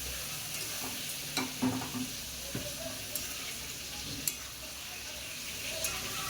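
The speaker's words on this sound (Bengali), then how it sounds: "মশলার সঙ্গে একসঙ্গে চিংড়ি মাছ ভাজা হয়ে যাবে" Prawns fry in spice masala in a hot pan, giving a steady close sizzle broken by occasional scrapes and clinks as a spoon stirs them.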